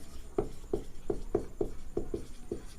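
Chalk or marker taps and strokes on a board sound in a quick uneven series of about eight short knocks, close and moderately loud, during a chemistry class lesson.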